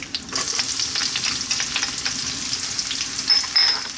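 Garlic and onion, added after dried chili, frying in olive oil in a pan, giving a steady, close hiss of sizzling with a few brighter crackles near the end.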